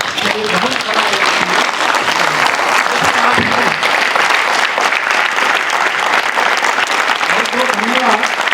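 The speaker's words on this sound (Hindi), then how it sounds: "सभी लोग एक बार इनके सम्मान में उठ करके अगर हम ताली बजाएं" Audience standing to applaud child performers at a drama academy in Lucknow: loud, sustained, dense clapping throughout, with faint voices underneath.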